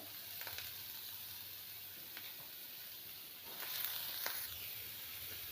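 Potatoes and pointed gourd fry in oil in a pan, giving a soft, steady sizzle up close with a few brief scrapes of stirring and a slightly louder surge near the end.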